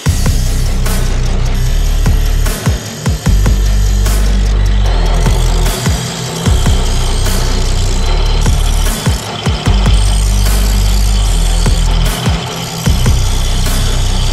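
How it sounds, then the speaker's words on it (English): Power tool cutting mild steel cross braces for a truck exhaust build, a loud mechanical grinding and rattling with repeated brief pauses and restarts, close and continuous without speech. "Let's get our cross braces cut here."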